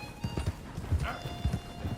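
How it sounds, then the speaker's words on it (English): A horse in Red Dead Redemption clops its hooves in quick irregular steps and lets out a short whinny midway, all over a busy outdoor game ambience. "Get a hold of that horse, will you?"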